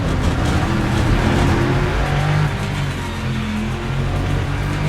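Racing car engine in Le Mans Ultimate at Imola's 6 Hours, a steady loud drone that dips slightly midway while braking into a chicane, with no talk over it.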